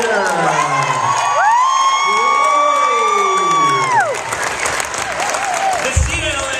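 Audience applause and cheering at a BattleDecks presentation contest finale, loud sustained clapping with whoops and shouts, while an electronic applause-meter tone rises, holds and falls midway.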